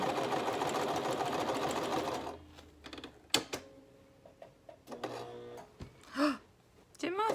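A sewing machine stitches around a vintage sewing pattern for a journal cover, a loud, close, rapid mechanical whirr that runs steadily and then cuts off, followed by scattered clicks, handling noises and brief vocal sounds.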